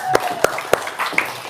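A few slow, separate hand claps, loud and close, with a short pause between each, followed by a couple of softer taps.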